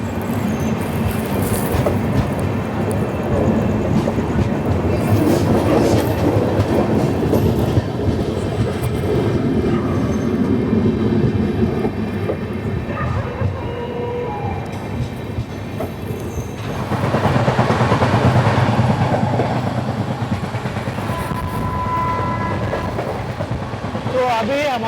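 The Mumbai–Ahmedabad Double Decker Express, train 12931, runs steadily on its rails with a continuous rumble, rhythmic wheel clatter and occasional squeal, heard from on board. The noise swells partway through, and a voice talks over it.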